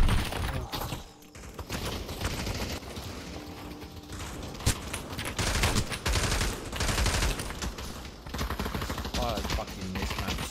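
Dense, sustained gunfire from the Pavlov VR shooter game, with rapid automatic bursts and overlapping shots running almost continuously and loudly throughout, under occasional speech.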